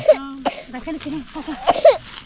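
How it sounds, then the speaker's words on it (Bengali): A young child at an early-morning village school coughs several times up close, short harsh bursts set among nearby voices. "কাশি হচ্ছে বাচ্চাটা"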